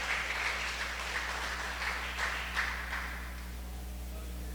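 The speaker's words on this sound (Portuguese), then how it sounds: "Aplauda o Senhor Jesus" During a church service, a congregation applauds in a steady, moderately loud wash of clapping that swells in a few pulses over a constant low hum in the room.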